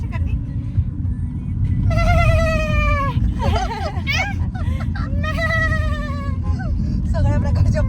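A voice inside a moving car imitates a goat with several drawn-out, wavering bleats over a loud, steady road rumble, with other voices chattering around it.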